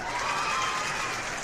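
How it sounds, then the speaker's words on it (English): Audience applause at a community gathering, a dense, steady wash of clapping from a crowd, brief and fairly loud with no talk over it. "Let's give it another round of applause."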